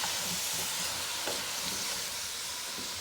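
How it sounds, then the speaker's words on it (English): Tandoori chicken and vegetable stir fry sizzles steadily in a hot pan, with the scrape and clatter of stirring rising now and then over the constant hissing fry. "stir these up a little"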